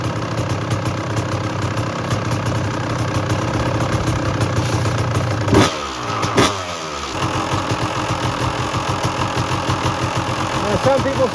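A 1992 Honda CR250 two-stroke dirt bike engine idles steadily as it warms up, a close, continuous droning run with a brief dip and blip midway, while a voice talks over it.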